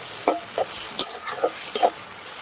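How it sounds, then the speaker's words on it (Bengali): Chili soya being stirred in a pan with soy sauce, chili sauce, vinegar and spices: about six short spoon scrapes in an uneven rhythm over a faint, low sizzle, close by. "soya sauce chilli sauce vinegar দিয়ে দিলাম এক চামচ মশলা দিয়ে একটু নাড়াচাড়া করে নিতে হবে"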